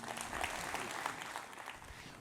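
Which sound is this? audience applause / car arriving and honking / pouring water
audience applause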